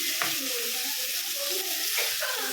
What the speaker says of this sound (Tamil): ஸோ இதுதான் மட்டன் லிவர் குக் பண்ணிகிட்டே இருக்கோம்.